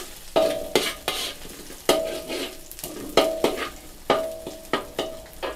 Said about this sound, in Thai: ผัดให้หอมครับ